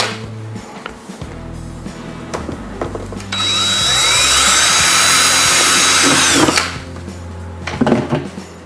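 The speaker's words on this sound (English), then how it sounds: "let's go ahead and pre-drill this whole thing." A high-pitched power drill whines steadily for about three seconds, pre-drilling into wood, with clunks and handling noise before and after.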